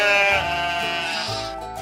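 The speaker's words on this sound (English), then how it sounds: "Bah, answered the sheep." A sheep bleats once, loud and close, a long wavering cry that trails off near the end, heard alone with no talk.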